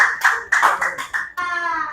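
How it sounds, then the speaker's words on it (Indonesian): Applause for group 4 in a classroom, several quick bursts of hand clapping from a small group, close and fairly loud with brief pauses between. "Tepuk tangan dulu untuk kelompok"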